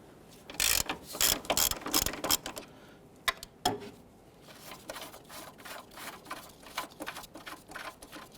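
A ratchet wrench clicks in quick, loud runs while backing out the lower bolt of a hydraulic engine mount on a 2012-2017 Toyota Camry, then settles into lighter, evenly spaced clicks.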